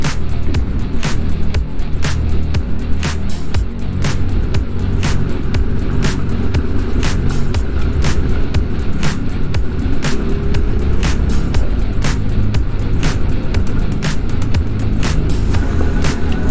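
Steady engine drone and rushing wind from a Yamaha Tenere 700 motorcycle being ridden with its windscreen lowered, loud and close, with regular rhythmic ticks running through the whole run.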